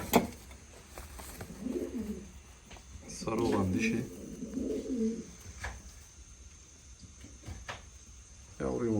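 Pet birds in a cage cooing softly at an evening home setting, low repeated coos rising and falling close by while someone talks over them.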